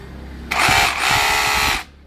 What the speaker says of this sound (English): where the drill will run only in an impact mode. There will be no rotation.